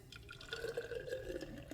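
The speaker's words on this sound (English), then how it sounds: "So I'm going to just pour this" Chlorella drink mixed with cilantro, lemon and ginger pours into a glass, a soft continuous trickle and splash of liquid heard up close, steady for under two seconds with no talking.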